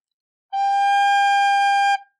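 A single sustained recorder note, G, held steadily for about a second and a half, clear and alone with no talking, played in a beginner lesson on Au Clair de la Lune.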